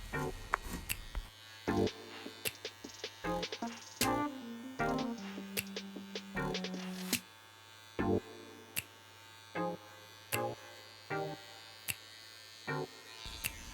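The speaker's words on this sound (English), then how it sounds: "Turn the clipper or trimmer around and just clear the neck with any excess hair." Electric hair clipper trimming excess hair from the back of the neck during a simple home haircut, a steady close buzz running throughout, its pitch shifting as the blade meets hair, with repeated sharp taps and clicks over it.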